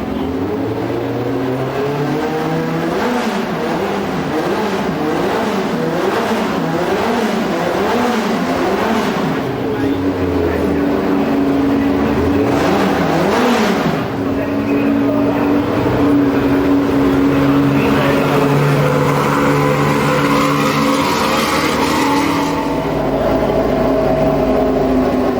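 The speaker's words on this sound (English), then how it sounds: "Pit lane atmosphere amid roaring, snarling engines takes over as the cars wait to be ushered out onto the track." Classic Team Lotus race cars idle and rev in the pit lane, several engines roaring and snarling at close range with rising and falling pitch sweeps, loud and continuous throughout.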